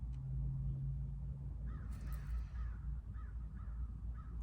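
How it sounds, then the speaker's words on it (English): Several crows caw from a distance, a few short harsh calls spaced across a few seconds over a constant low outdoor rumble, faint and without voices. "The crows are singing now."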